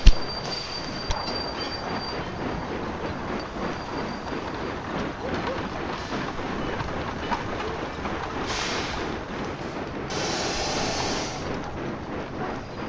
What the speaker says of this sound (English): So the counterclockwise train is leaving